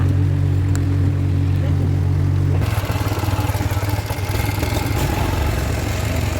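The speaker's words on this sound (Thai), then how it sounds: "แล้วก็ลงเรือไปเลยค่ะ" Motorboat engine droning steadily through a canal boat ride to a garden cafe at Ban Phaeo, changing pitch partway as the boat gets under way, loud and close with no talking.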